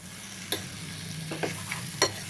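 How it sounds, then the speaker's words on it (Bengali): Prawn malai curry being stirred in a pan over a low gas flame, with a soft background sizzle and a few sharp utensil scrapes and taps, close by and with no voices. "ঢাকনাটা খুলে দেবো, একটু নেড়ে চেড়ে দেবো।"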